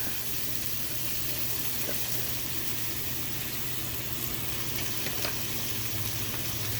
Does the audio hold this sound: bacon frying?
yes